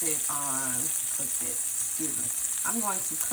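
Frozen Beyond Meat burger patties cooking on butter in a pan give off a constant, bright sizzling hiss, with a voice talking over it in short bursts.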